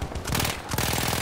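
Rapid bursts of Villar Perosa submachine gun fire in the World War I shooter Battlefield 1, loud and close with fast repeating shots.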